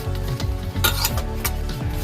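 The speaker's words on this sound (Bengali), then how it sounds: "এভাবে চেপে চেপে ভেজে দিতে হবে," An aloo paratha fries in oil in a pan while being pressed down with a spatula: a loud, close sizzle with scraping and soft metal clinks in an uneven rhythm.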